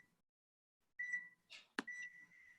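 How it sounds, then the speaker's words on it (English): A kitchen timer goes off while banana bread is being baked, giving a single clear electronic beep, then a brief pause and a second tone that rings on, close and fairly loud, with no talking. "So that's the timer."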